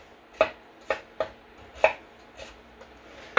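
A knife chops food into small pieces on a board for a beef and onion pie, with about seven crisp, separate knocks at an uneven, unhurried pace, close and clear with no talk.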